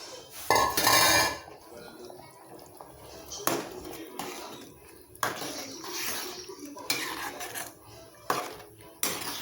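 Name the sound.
washing mixer jar and pouring water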